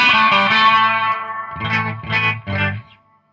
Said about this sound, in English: And I can activate the reverb if I want in my distortion channel.